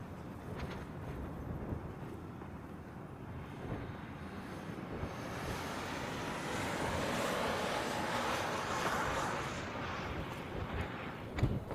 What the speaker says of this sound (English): The wind is starting to pick up again around here.